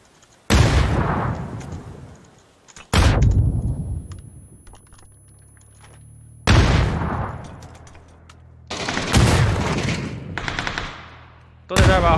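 Automatic gunfire in a shooter video game comes in several loud, sharp bursts separated by quiet gaps, alongside rapid keyboard clicking and some faint background talk.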